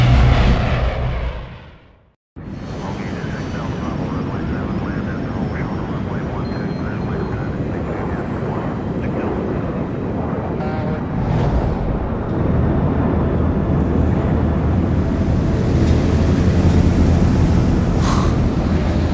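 In-game airplane engine drones steadily in flight in Splinter Cell Blacklist, a loud broadband roar that cuts in after a brief silence and swells slightly toward the end, with voices talking over it.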